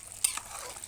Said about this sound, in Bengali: এই তো ইলিশ মাছ ভাজা হচ্ছে